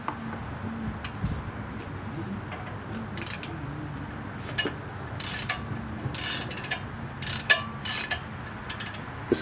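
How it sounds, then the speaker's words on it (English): A ratchet clicks steadily as it turns a brake caliper bolt on a Chrysler 300 during a front brake pad job, with bursts of close, sharp ratcheting over a low garage background. "So you're turning the bolt with the ratchet and holding the part that it's screwed into with the wrench."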